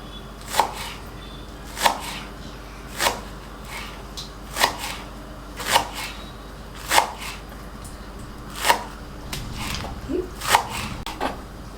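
A knife chops spring onion and other vegetables for egg fried rice, about a dozen crisp, evenly spaced chops on a board, near and distinct, with no talk over them.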